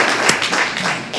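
Applause at a Montgomery County Commissioners meeting for the new CFO: a short patter of hand claps from a modest audience, fairly close and steady, with a sharper clap standing out early.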